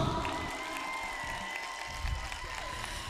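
A comedy-show audience applauds and cheers for a stand-up comedian, a steady, fairly distant wash of clapping and crowd noise that holds evenly from start to finish.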